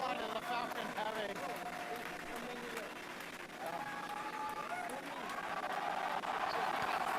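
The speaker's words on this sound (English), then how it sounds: "if you can hear all that cheering" A large crowd cheers and whoops throughout a Falcon Heavy test flight launch, a steady wash of voices and some clapping with a few shouts rising above it, loud and sustained.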